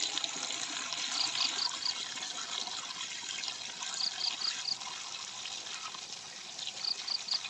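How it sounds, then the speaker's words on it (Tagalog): Water pours steadily into a knapsack sprayer tank on a farm, a continuous trickling and splashing rush filling about half the tank, heard alone at moderate level with no talk. "before po natin lagyan ng tara, kailangan po natin lagyan ng tubig, kalahati lang sa isang knapsack"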